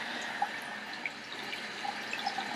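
Water runs steadily from a sink tap while the temperature is adjusted for soaking dentures, a soft continuous hiss with a few faint drips and clinks, no talking.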